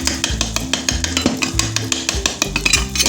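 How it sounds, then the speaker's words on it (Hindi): Spoon mashing brain masala in a pan over high flame, making a rapid run of scraping clinks against the metal, with background music playing throughout. "इसको चम्मच की मदद से अच्छी तरह से अपने मैश कर लेना है और ऊंची आग पे इसको भून लेंगे।"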